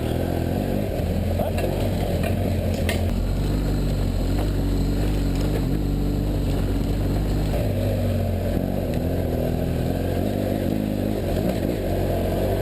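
A BMW F800GS motorcycle rides off-road on trails in first gear, its engine a loud, steady close-up drone with shifting revs and wind buffeting throughout, with no clear talk.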